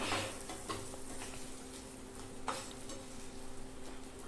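Tamarind, tomato and chillies being sautéed for a vallarai keerai chutney, a soft sizzle under brief spatula scrapes and a few light taps against the pan, quiet and close.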